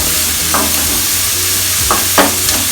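About 300 grams of onions sizzle loudly and steadily in a pan for an egg khurma, with a few stirring scrapes breaking through the constant frying hiss.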